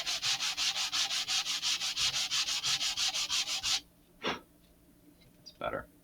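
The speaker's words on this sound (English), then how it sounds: "I'm going to have to sand them down" Laser-cut parts for an Estes Great Goblin model rocket are sanded by hand in fast, steady back-and-forth strokes, close and loud for several seconds before stopping, followed by a few brief scrapes.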